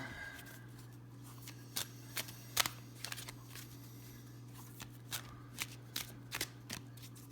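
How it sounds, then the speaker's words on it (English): Tarot cards being shuffled by hand in a quiet room: a series of soft, crisp riffles and taps at irregular intervals over a low hum. "So let's just shuffle."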